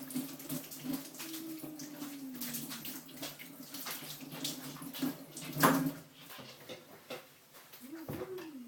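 Tap water runs as hands are rinsed at a sink, a faint, steady splashing flow with a voice talking over it and a brief louder splash partway through.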